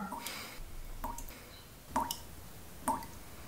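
Sparse water drips at night, each a short bright plink spaced roughly a second apart, fairly quiet and alone against soft background hiss.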